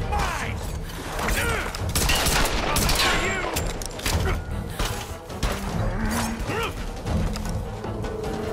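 Gunfire in the video game Tomb Raider (2013), with dense bursts of shots, thuds and mechanical clatter amid busy game sound, loud and continuous with some overlapping voices.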